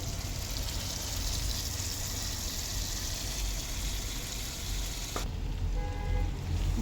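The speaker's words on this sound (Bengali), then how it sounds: "মশলাগুলো মোটামুটি কষানো হয়ে গেছে" Ground spices sizzle and fry in a hot pan, making a continuous loud crackling hiss throughout with a brief shift in texture near the end.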